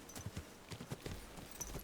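Horse hooves clip-clop in the medieval video game Kingdom Come: Deliverance II, a steady walking rhythm of soft, even hoof strikes that continues without pause at moderate volume.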